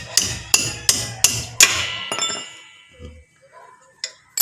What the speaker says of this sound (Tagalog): So, luluwagan po natin yung tornilyo dito sa likod,